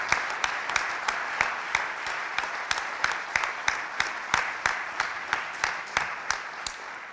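Audience clapping for a minister at a conference, steady crowd applause with regular sharp claps throughout, moderately distant and without speech.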